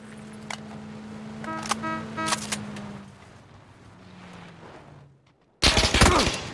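Gunfire in the battle royale game PUBG: a few sharp shots rise above a hum in the first seconds, then a loud, close burst of rapid fire erupts near the end.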